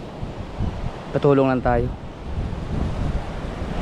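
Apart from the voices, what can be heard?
strong wind and sea waves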